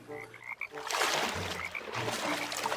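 A frog croaking at a still lake, repeated throaty croaks in short bursts over a loud, continuous wash of outdoor ambience.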